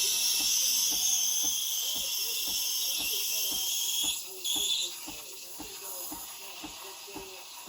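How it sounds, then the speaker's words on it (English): The steam wand of a refurbished Breville Barista Express BES870BKS steams milk with a constant, bright hiss that drops in pitch partway through, while a person talks over it. "You keep the tip close to the surface and close to the edge of the milk so that it's spinning the milk as it's steaming."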